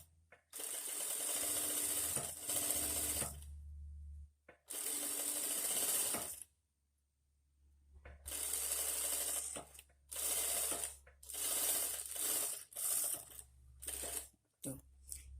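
A sewing machine stitching elastic thread runs in repeated bursts of rapid mechanical clatter separated by short pauses, close and fairly loud, with talking heard between the runs.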